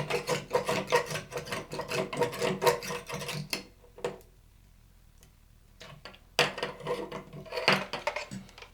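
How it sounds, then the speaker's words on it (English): Razor blade scraping old silicone caulk off a bathroom wall, close rhythmic rasping strokes in a quick series, a pause of near silence, then more scraping. "I scraped off a significant amount with the razor"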